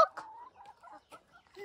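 A voice imitates a hen clucking, a few short, bright clucks in quick succession, close and alone.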